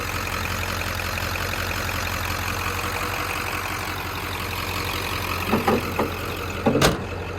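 A 1996 Ford F250 pickup's 7.3 diesel engine idles with a steady, loud low rumble throughout, with a few faint knocks near the end and no talking.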